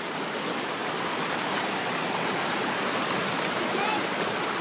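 Water rushes and flows steadily in an outdoor stream, a loud, continuous broadband wash with no pauses, heard close throughout.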